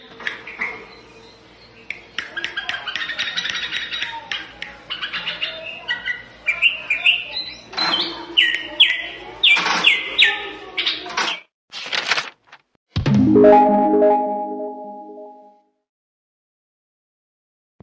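Sooty-headed bulbul, or kutilang, singing a series of bright, varied chirping phrases close by, with a few sharper notes and a short buzzy burst near the end before silence.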